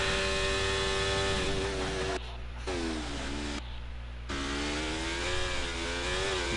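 A race car engine drones loud and close at Circuit of the Americas in a racing video game, holding a high, steady pitch down the long straight, dipping briefly twice with gear changes before climbing again.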